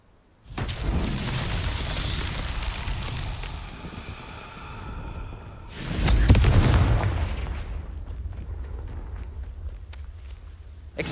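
Blasting-curse explosions in a Hogwarts Legacy duel: a sustained roar of magical blasts, with one heavy boom landing about two-thirds through before the noise settles into a lower rumble.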